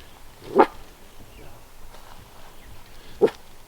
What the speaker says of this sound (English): it's reacting to her barks